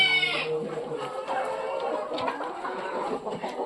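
Hens in a poultry flock cluck and murmur close by, with one louder call at the start and soft clucking continuing throughout, a voice talking faintly underneath.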